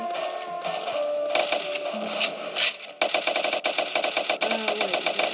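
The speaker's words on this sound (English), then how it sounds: "That was a machine gun." A machine gun fires in the video game Pixel Gun 3D, long rapid bursts of sharp metallic shots with a short pause partway through, loud and close, with no talking.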